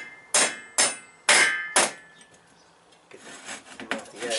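Four sharp metallic hammer strikes ring out in an even rhythm while removing valve guides from a VW cylinder head, then give way to scraping and rubbing sounds.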